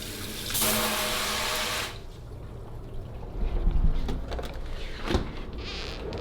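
Water runs from a high-end kitchen faucet in a luxury Los Angeles home, a loud steady rush for a couple of seconds followed by quieter handling noises and soft thumps.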